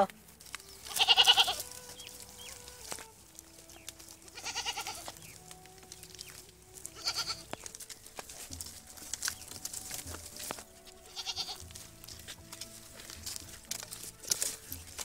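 A goat offered for sale bleats several times, one loud nearby cry at the start and softer repeated bleats spread through the rest, over light rustling and background noise.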